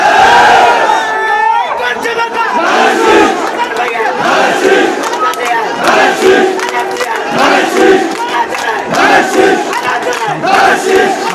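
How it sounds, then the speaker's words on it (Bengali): A large crowd chants political slogans at an election rally in Noakhali, Bangladesh: loud massed voices in steady rhythmic call-and-response bursts, close and filling the whole clip. "আপনারা স্লোগান দেন, আমি একটু শুনি যে আপনাদের স্লোগানের আওয়াজ কতটুকু"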